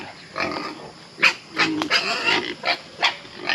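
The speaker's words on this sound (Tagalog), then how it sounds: "So, ayan din yung ating mga inahining baboy, oh." Sows on a farm grunting and squealing in repeated short bursts, close and fairly loud, with irregular spacing and no talk over them.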